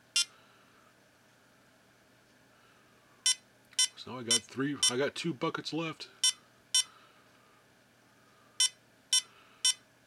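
A Kaboom electronic keychain game gives sharp, high electronic beeps, scattered singly and in quick clusters over about ten seconds, with someone talking briefly in the middle.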